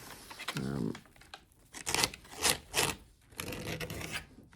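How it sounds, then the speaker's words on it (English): Scraping through layers of pigment stick paint on an artwork, a series of dry rasping strokes of varying length, close and moderately loud, with a few brief pauses between passes. "I scrape through it"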